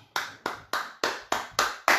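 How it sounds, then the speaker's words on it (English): Seven sharp hand claps ring out one by one in a steady, even rhythm, close and crisp, during a political address to fellow ambassadors and citizens about the Ambazonia revolution, with no voices between them. "I want to clap"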